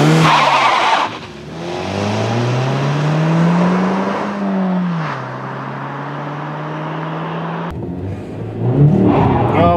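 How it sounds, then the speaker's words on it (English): A 2013 Mazda3 or Hyundai Elantra GT engine revs hard during a 0-60 mph run, climbing in pitch through a gear below redline, tires squealing and skidding, then a shift and renewed acceleration. "Once again, I got a lot of tire slip"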